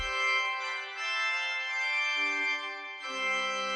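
A Rieger pipe organ mixture stop sounds alone, a bright, thin, high-pitched sustained chord held steady and then shifting twice to new notes, with no voice present.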